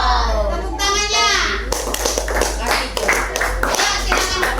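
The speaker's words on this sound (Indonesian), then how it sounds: "Tepuk tangannya." A group of children in a classroom claps together in steady rhythmic applause after a group presentation, over lively chatter and voices in the room.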